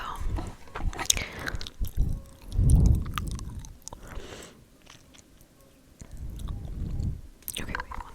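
Chewing gum close to the microphone, soft wet squishing and smacking bites in irregular bursts, with quiet whispering in between.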